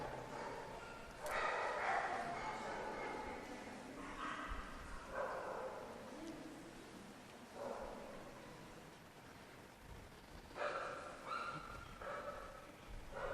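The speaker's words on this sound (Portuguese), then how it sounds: "É uma cachorrada medonha, né?" Many dogs bark and yelp repeatedly in loud overlapping bursts, a chaotic pack chorus with brief lulls between volleys.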